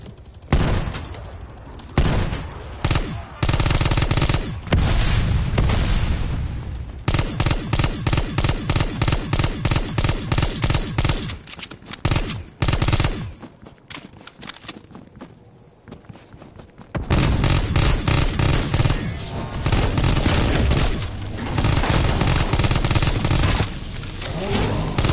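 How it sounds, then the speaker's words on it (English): Heavy hand cannon gunfire in a zombies video game, in bursts of rapid shots with loud booms and brief pauses, punctuated by a quieter stretch before shooting resumes. "Engaging with hand cannon."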